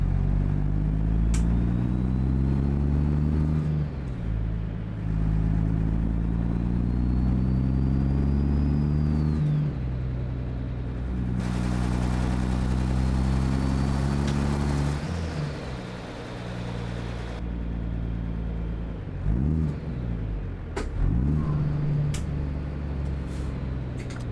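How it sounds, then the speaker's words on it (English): A Cat 3406E diesel in a Peterbilt 351 hauling a step deck in American Truck Simulator rumbles steadily, its pitch climbing through repeated gear pulls and dropping at each shift, loud and continuous. "Oh, I might have to turn the engine up so I can hear it."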